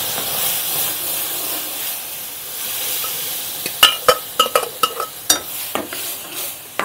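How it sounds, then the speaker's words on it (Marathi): Cooked spinach goes into a hot tempering and is stirred: a steady steamy hiss, then a run of quick, rhythmic spoon scrapes and clacks against the pan. "आता हे पालकाची भाजी शिजवलेली टाकून घे."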